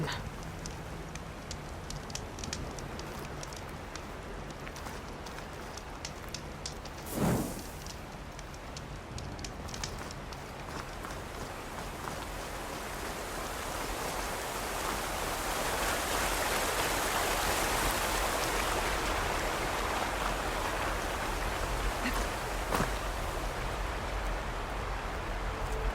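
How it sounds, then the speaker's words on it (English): Steady broadband rain hiss in the Horizon Forbidden West game world, building gradually louder across the clip, with a couple of brief sharper splashes or thuds and faint ambient tones beneath. "Rain."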